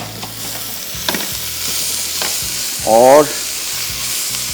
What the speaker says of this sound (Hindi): बीफ को भी तेज़ आंच पे थोड़ा सा फ्राई किया